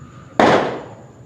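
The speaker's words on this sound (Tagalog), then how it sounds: "Wala pa pong alas 12 ay talaga namang walang tigil ng putukan na yan" A single loud firecracker bang bursts out during New Year's Eve celebrations, a sharp crack followed by a decaying rumble, with faint background noise before it.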